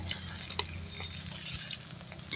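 Shrimp fritters made from small chopped prawns coated in gram-flour batter with coriander, frying in a pan over a wood-fired clay stove, giving a steady close crackle and sizzle with a few faint utensil clinks.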